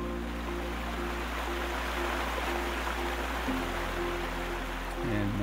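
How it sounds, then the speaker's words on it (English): Water rushes steadily into a dry dock through opened lock door valves during a ship's technical launch, a loud, continuous broadband roar over a low machine hum that shifts partway through. "and then the water runs into the dock."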